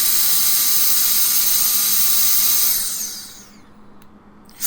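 A Mantachi cordless mini air jet blower whines at high speed with a steady, piercing high-pitched rush, then spins down over about a second into near silence before a brief click at the end.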